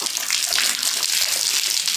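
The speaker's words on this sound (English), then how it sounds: "Rinse. Big rinse." Water gushes and splashes steadily while a horse is rinsed down, a continuous hissing spray close to the microphone with no talking.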